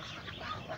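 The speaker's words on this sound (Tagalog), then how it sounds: "puntahan natin yung kaniyang mga ducklings." A few ducklings about a week old give soft, faint quacks at a farm, brief calls over a dull background within less than a second.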